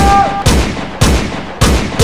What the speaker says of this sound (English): Shots fired, bro. Shots fired everywhere.